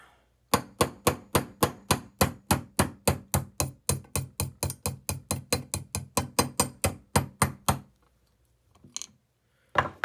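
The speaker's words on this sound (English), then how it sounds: "you can go ahead and tap this pin out" A small hammer taps a pin out of a rifle action in a fast, even series of about thirty close, sharp metallic taps, then pauses before a few more scattered knocks.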